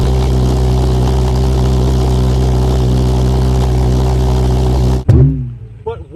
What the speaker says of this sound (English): This is my homemade jet engine.